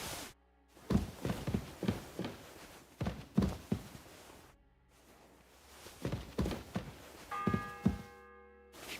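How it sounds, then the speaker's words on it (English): A church bell tolls in a medieval town in Kingdom Come Deliverance II, several heavy evenly spaced strikes in two groups with ringing tails, fairly distant and alone without talk. "The sixth bell."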